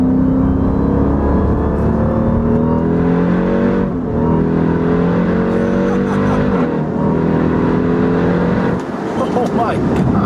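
A 2018 Jeep Grand Cherokee Trackhawk's engine roars loud and close from inside the cabin, revving hard with a steady exhaust drone and rising pitch under acceleration, with brief shifts in tone.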